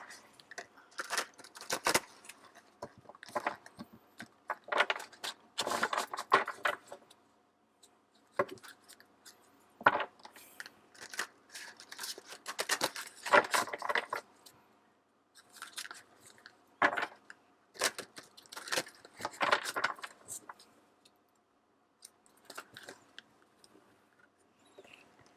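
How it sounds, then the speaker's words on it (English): Tarot cards shuffled by hand for a pick-a-card reading, a run of crisp papery riffles and slides in close bursts with short pauses between, no talking. "I'm going to give these a shuffle first."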